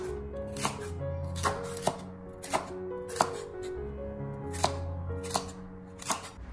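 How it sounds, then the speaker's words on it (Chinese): A knife cuts celery diagonally into diamond pieces on a board, with about nine crisp, evenly spaced chops over a low background hum. "然后我们再斜刀把芹菜改刀切成菱形块"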